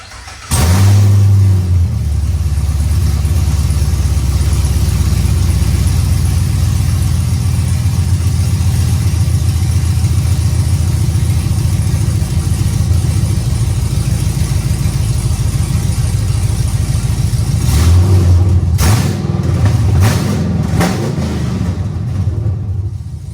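A Pontiac G8 GT V8 with freshly installed headers and no exhaust attached fires up and runs loud and raw, a steady heavy rumble for about twenty seconds, followed by a few sharp revs near the end.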